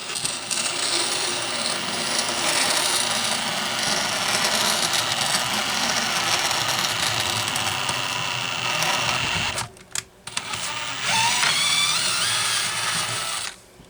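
A power drill whirs steadily and loudly, cutting threads into a metal Homelite chainsaw bar stud, then briefly stops and restarts before running on for a few more seconds.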